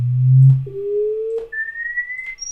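A steady pure tone glides upward from a low hum at 20 Hz to a high whistle over a couple of seconds, with faint clicks where it steps in pitch; an audio sweep test signal.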